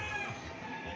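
Chickens cluck in a steady, dense murmur at a fancy chicken show, with no single call standing out above the continuous crowded fowl noise.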